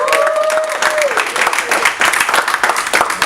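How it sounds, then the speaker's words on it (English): A crowd gives a round of applause for two guests at an anti-bullying event, with loud, continuous clapping mixed with cheers and crowd noise, and a brief whistle-like tone at the start. "Let's give Mark Klein and BJ one more round of applause."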